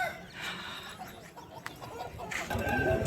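Roosters and hens cluck and crow at a fighting-rooster market in Vijayawada. Several birds call at once, moderately near against a busy market background, with no talk in between.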